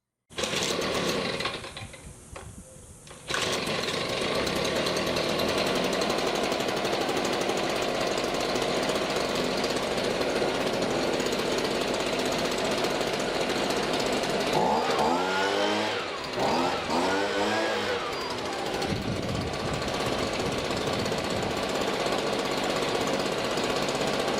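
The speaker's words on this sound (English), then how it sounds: "Let's get a baseline of how the blower runs." A STIHL BG55 leaf blower's two-stroke engine runs loud and close, giving a steady buzzing drone that briefly dips and surges in pitch partway through.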